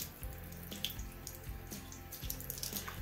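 Makeup brushes rinsed under a running tap, with a steady close stream of water splashing into a sink and slight changes as the brushes move through it, no talk.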